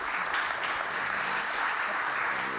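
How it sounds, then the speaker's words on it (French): Conference audience applauding a speaker, a dense, even wash of clapping from a sizeable crowd, somewhat distant and moderately quiet, sustained throughout. "merci Thierry, on peut l'applaudir à nouveau."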